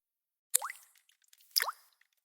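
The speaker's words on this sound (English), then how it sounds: "That sound is the leaky shower head that came with your place." Two separate drips from a leaky shower head land about a second apart, each a sharp, close plop with a short watery ring that fades into silence.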